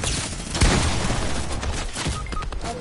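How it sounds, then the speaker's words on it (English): Rapid bursts of gunfire from an enemy team ring out in a PS4 shooter game, a loud opening crack followed by scattered volleys and a few sharp pings. "another team shooting at me"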